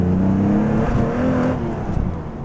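TVR Sagaris engine revving with a deep, raspy note, a loud, steady low growl that swells slightly before easing off, heard alone without talk.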